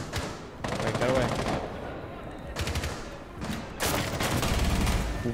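Rapid automatic gunfire bursts in the video game Rainbow Six Siege, loud and close, several sustained volleys broken by short pauses, with no speech.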